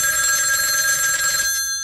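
A telephone rings before a voicemail message, a single bright electronic trill that is loud and close and cuts off near the end.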